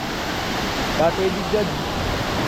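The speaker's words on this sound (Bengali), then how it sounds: "এইদিকে ঝর্ণা আছে" A waterfall at Jaflong Zero Point in Bangladesh gives a steady, broad rushing roar with no pauses, and a faint voice briefly surfaces near the middle.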